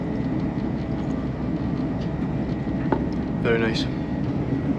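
Steady low rumble inside a moving first class train carriage bound for London, with a brief voice exchange near the end heard over the constant hum.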